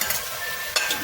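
Spices stirred into Girnari khichdi in a hot pot, a steady sizzle broken by two quick scraping strokes of the spoon, close and with no talking.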